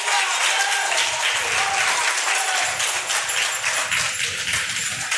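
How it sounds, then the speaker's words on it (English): Sustained crowd applause following a call to applaud political representatives at a Jamaican public event, a dense, steady wash of many hands clapping at fairly close range, with no talking over it. "give them a round of applause"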